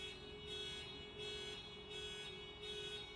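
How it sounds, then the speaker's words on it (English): A car alarm wails faintly in the distance, its pulsing electronic tone rising and falling in a steady repeating cycle over a low constant hum. "That's an alarm of a car"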